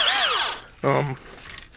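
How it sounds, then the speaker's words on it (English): Small 18-volt cordless drill briefly whirring up and winding down, a short close burst next to a person talking. "put it on the end of a drill, like just little standard 18-volt drill like that"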